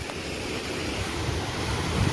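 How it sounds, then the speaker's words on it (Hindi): Fast-flowing river swollen after rain beside a damaged road, a steady loud rushing roar of water with wind buffeting the microphone throughout, no voices. "नदी का फ्लो आप चेक कर सकते कितना ज़्यादा तेज़ है।"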